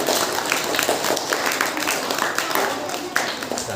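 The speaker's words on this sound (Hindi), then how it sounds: "तो एक बार आपने लिए ताली बजाओ" Participants in a yoga class clap together in a dense, fairly loud burst of applause that carries on for a few seconds.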